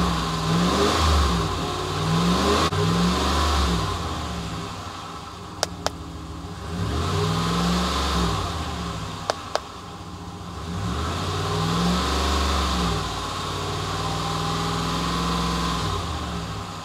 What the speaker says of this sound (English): It's asking me to rev the engine.